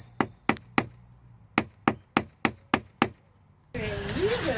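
An old hammer about thirty years old strikes a copper coin ring nine times in sharp metallic taps with a ringing edge, uneven in rhythm, followed by a burst of rustling noise.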